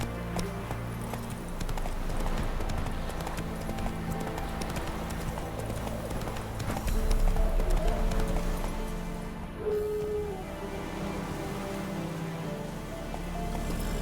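Geralt's horse Roach trots in Witcher 3, hooves clip-clopping in a steady rhythm at close range over a constant bed of rain and ambient game music, with a brief snort partway through.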